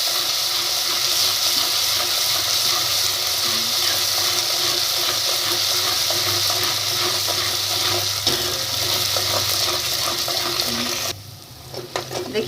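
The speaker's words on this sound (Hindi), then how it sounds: "ये 2 टीस्पून लहसुन अदरक का पेस्ट है, इसको डाल के भूनेंगे।" Garlic ginger paste, two teaspoons, frying in a pan for tomato rice, a steady loud sizzle with occasional stirring scrapes, continuous until it drops off near the end.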